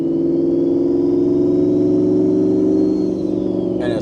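Engine of a turbocharged 1550 whp Shelby F150 pickup under steady acceleration, a loud, sustained low drone with rising harmonic tones, close and alone, ending with a brief burst of hiss.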